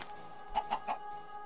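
A Minecraft chicken clucks three quick times, fairly soft and alone, on a chicken-farm trip.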